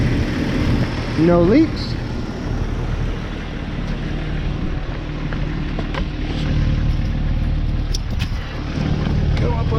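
A Jeep XJ engine idling just after a fuel line repair, a steady low rumble that runs throughout, with a brief higher whine early on and a person talking over it.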